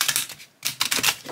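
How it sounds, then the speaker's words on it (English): Stiff zombie tarot cards being shuffled by hand: quick, close, crisp riffling and flicking bursts, a short pause, then another rapid run of card snaps. "let's see how they shuffle."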